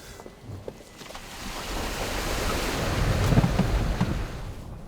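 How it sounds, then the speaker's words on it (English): A Denza B5 4x4 drives through water, and a rushing splash builds over a few seconds, peaking loud and close before easing slightly. "she does the water splash pretty good"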